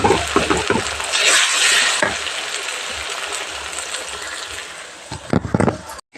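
Ginger garlic paste fries noisily in a pan for biryani, a steady hiss of sizzling with spatula stirring, louder scraping bursts at the start and again near the end.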